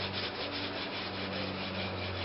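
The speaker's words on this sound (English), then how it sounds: "Just using 80 grit sandpaper." Hand sanding a wooden hatchet handle with 80 grit sandpaper, a steady, close, dry scratchy rubbing that continues evenly with no pauses and no voices.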